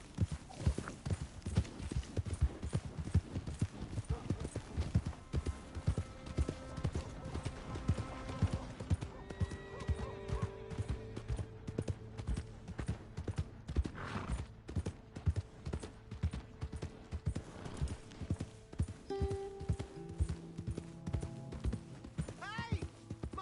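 Horse hooves clip-clopping steadily throughout in Red Dead Redemption 2, a continuous rhythmic trot under background game music and occasional voices.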